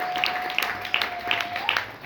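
A church congregation claps in a loose, rhythmic beat of about five or six sharp claps, moderately near, over a sustained musical tone and a faint background murmur.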